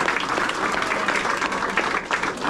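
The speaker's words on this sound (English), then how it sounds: "Let's give Michael Deeb a round of applause" Steady applause from an audience at a Savannah Bananas Hall of Fame event, full and continuous for a couple of seconds.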